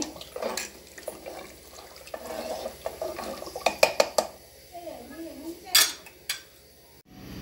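Maize grits being stirred in a metal pot, with scraping and clinking of a spoon against the sides in scattered bursts, some louder knocks near the end, and a voice speaking intermittently nearby.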